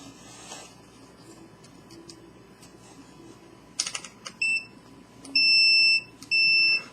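Smoke detector under test giving two sustained, loud, high-pitched electronic beeps near the end, preceded by faint handling clicks and rustling close by.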